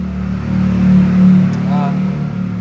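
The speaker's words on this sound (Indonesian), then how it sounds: "Motor lewat." A motorbike passing on the street, its low engine rumble swelling louder and then easing off while a person talks over it.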